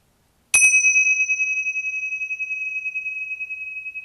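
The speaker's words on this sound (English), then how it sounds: "And we'll start and end with a bell." A single meditation bell is struck once and rings clearly, a bright tone that decays slowly with a gentle pulsing shimmer for several seconds in otherwise silent surroundings.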